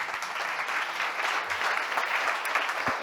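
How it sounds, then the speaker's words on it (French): Applause from the audience at the closing evening of an international week event in Nantes greets the president of the chamber of commerce. The clapping is dense and steady throughout, with no talk over it. "Yann Trichard, avec vos applaudissements."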